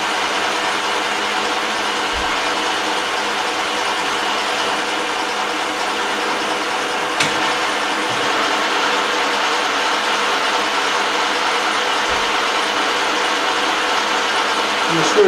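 EMCO lathe running under power feed while screw cutting, a steady mechanical whirr with rhythmic gear and ratchet-like clatter, with a single sharp click partway through and no talking.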